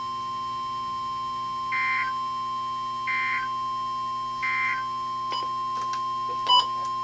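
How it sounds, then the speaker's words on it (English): NOAA Weather Radio warning alarm test from the National Weather Service: a steady tone runs under three short, evenly spaced higher beeps, followed by a couple of brief clicks and a sharp final blip. "This is a test of the National Weather Service NOAA Weather Radio Warning Alarm System."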